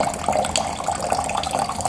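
Water runs steadily from a Sawyer gravity water filter system into a container, a continuous close trickling and splashing stream with no talking.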